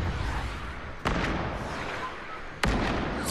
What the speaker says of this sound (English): I'm being sniped now.